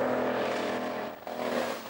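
A rally car in the 2005 East African Safari Classic Rally roars past close by, its engine loud and steady before briefly dipping, then surging again.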